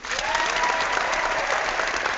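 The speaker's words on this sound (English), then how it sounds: "You need a clapping" A brief burst of dense clapping from a small group, loud and steady throughout with no voices over it.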